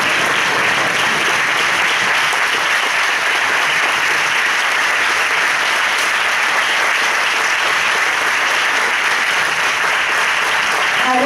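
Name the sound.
banquet audience applause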